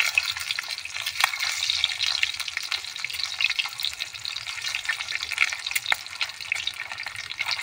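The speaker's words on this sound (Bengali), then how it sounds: "মা ফ্রাই করছে।" Eggs frying in a pan, a fine crackling sizzle with scattered pops and stirring, steady and moderately quiet throughout, no voices.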